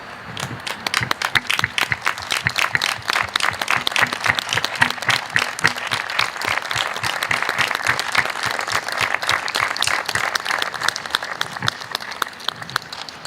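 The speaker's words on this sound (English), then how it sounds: "let's offer our encouragement and appreciation by giving them a round of applause" A large standing crowd applauds 9/11 responders at a Patriot Day Freedom Walk ceremony, dense sustained clapping that holds steady for about thirteen seconds without letting up.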